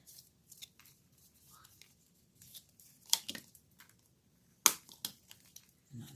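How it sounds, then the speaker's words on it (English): A paper card is folded and creased with a bone folder: quiet, close crackles and sharp scraping swipes come in short bursts, with a few louder creasing strokes between soft pauses. "you're going to fold and crease with your bone folder on both sides"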